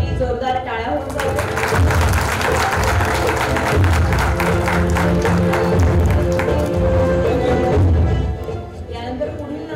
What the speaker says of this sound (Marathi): यांच्यासाठी जोरदार टाळ्या होऊन जाऊ